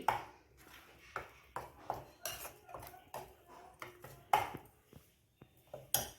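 Matar paneer mixture being stirred in a pan with a metal spoon, giving repeated scraping clinks and taps at an uneven rhythm, close and moderately loud, with no talking.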